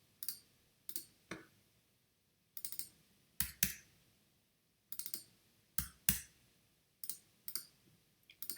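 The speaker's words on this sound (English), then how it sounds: "I'm now double clicking to do the same on the other side." Mouse double-clicks on a computer while working on InDesign master pages, heard as crisp paired clicks coming in irregular bursts with quiet gaps between, close and alone with no talking.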